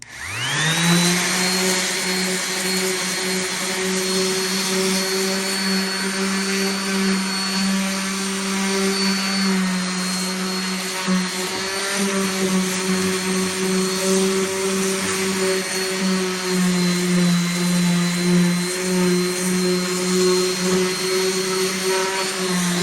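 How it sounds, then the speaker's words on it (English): A power sander runs steadily on a barn wood tabletop, rounding its edges, with a loud constant motor whine and grinding hum throughout and no talking. "So we're going to get this sanded down"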